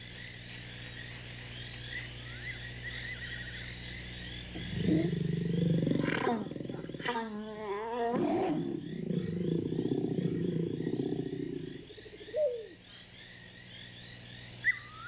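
Adult male lions of the Mala Mala pride close to a mating pair, giving deep growling roars that swell and rumble loudly for several seconds, then fade to short grunts and quiet.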